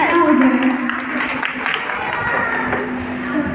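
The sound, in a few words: audience applause at a Hariyali festival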